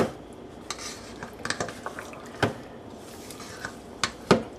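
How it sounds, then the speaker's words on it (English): A spoon scrapes and clinks around a bowl of potato salad with pickled peppers, a series of irregular close knocks and scrapes over a quiet background, no talking. "Stir it all together."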